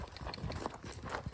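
Clip-clop of a pony pulling a cart, a steady run of close hoof strikes on hard ground with a faint voice now and then.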